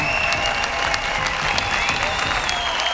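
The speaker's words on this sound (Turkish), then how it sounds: "Alkışlarınızla Esra Sönmezer podyumda." An audience applauding, dense and continuous clapping from a crowd filling the space, with a few faint voices mixed in.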